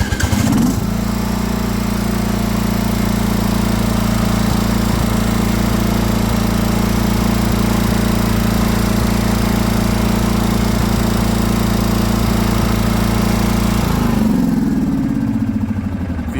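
A riding lawn mower engine runs steadily after it starts, with a loud, constant, low droning idle close by. The engine holds for about fourteen seconds, then the pitch falls as it slows down near the end.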